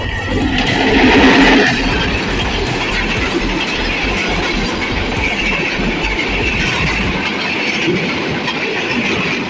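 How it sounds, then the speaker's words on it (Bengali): A train rolls past close by with a loud continuous rumble, rhythmic clickety-clack of wheels on rails and a high metallic wheel squeal, steady throughout. "অবশেষে ট্রেন গাড়ি চলে আসলো।"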